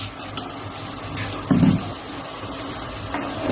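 Water poured from a cup into a pot holding two cups of rice gives a soft, low splash and trickle, with a brief louder gush midway and quiet handling noise around it.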